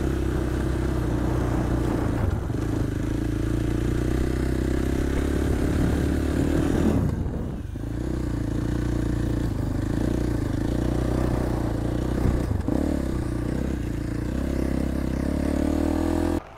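A motorcycle engine drones steadily up close while riding on a training course, its pitch rising and falling gently with throttle changes, with occasional rattles and scrapes.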